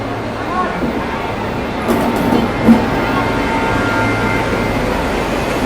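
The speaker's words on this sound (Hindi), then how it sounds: "तो ये आ गई अपनी बिहार संपर्क क्रांति एक्सप्रेस ट्रेन प्लेटफॉर्म नंबर 16 पे।" Bihar Sampark Kranti Express hauled by a WAP7 electric locomotive rolling into platform 16 of a busy Indian station, a steady low rumble of moving rail cars under constant crowd chatter and station bustle.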